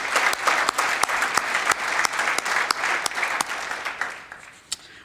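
Audience at a healthcare summit applauding the event sponsors, a dense burst of steady clapping from a crowd that fades out after about four seconds, leaving a lone final clap.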